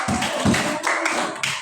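Brief classroom applause for a student group, a few scattered claps tapping out over under two seconds, close and fairly loud.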